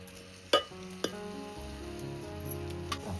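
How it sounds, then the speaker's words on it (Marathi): Wild chudya mushrooms frying in a spice tempering over a village wood stove, a soft steady sizzle punctuated by a few sharp metallic clinks and scrapes of a spoon against the pot. "फोडणी तर झाली आहे चुड्या मशरूम किंवा चुड्याची अळंबी आपण याच्यामध्ये टाकले आहेत"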